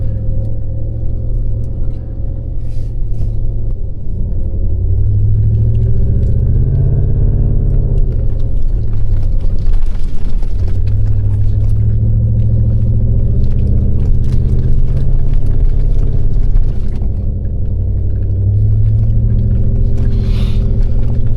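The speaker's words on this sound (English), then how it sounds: "my truck is gonna for sure spook it. I have the Flowmaster American Thunder exhaust" A pickup truck fitted with a Flowmaster American Thunder exhaust drives a muddy, icy backcountry trail in Ontario, its deep exhaust rumble steady and loud throughout, swelling with gentle throttle changes and occasional rattles.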